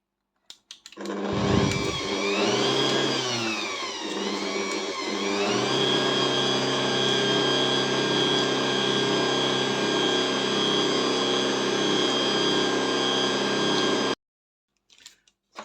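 An electric mixer whisking eggs whirs loudly and steadily, its pitch wavering at first as it starts, then running evenly for several seconds before cutting off.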